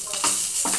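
Oil sizzling and frying in a pan while cooking for pesarattu with chutney, a steady hiss with brief bursts as food is stirred, heard alone at close range.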